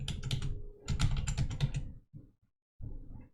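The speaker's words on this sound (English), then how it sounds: "In Windows 10 search, type services." Rapid clicking keystrokes on a computer keyboard in bursts, close and fairly loud, with a short pause before a final few keys; no talking.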